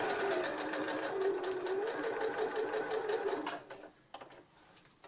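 A sewing machine runs steadily, stitching the four side seams of a small bag with a backstitch at the start, its fast mechanical whir close and continuous before slowing into a few short bursts and clicks.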